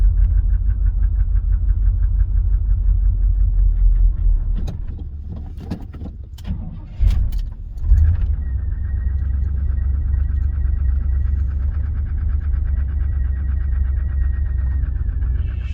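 A 1983 Chevrolet S10 square-body pickup engine idling cold with a steady low rumble, briefly blipped with a few throttle bursts midway before settling back to a smooth idle with a faint whine.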